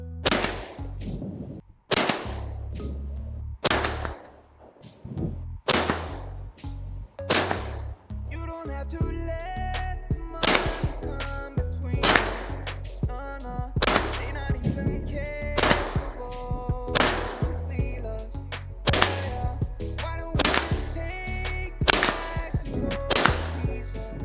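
An AR-15 fitted with a Stern Defense 45 ACP conversion kit fires a long string of sharp, loud reports, some spaced out and others in quick bursts, each with a short echoing tail.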